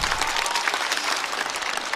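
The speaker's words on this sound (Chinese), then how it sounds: "再次掌声送给梦洁。" Studio audience at a Chinese stand-up comedy show applauds a comedian, a dense, steady wash of clapping held throughout without speech.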